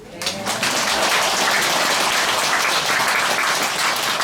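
Sustained applause from a crowd at a Buddhist temple dharma service, a dense, even roar of clapping that rises quickly and holds steady at full strength.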